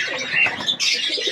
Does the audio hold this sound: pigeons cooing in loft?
yes